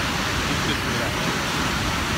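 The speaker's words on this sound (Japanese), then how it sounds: "こういう感じで水量が多いですね" Heavy water flow at Gullfoss waterfall in Iceland, a loud, steady, broadband roar that holds unbroken throughout.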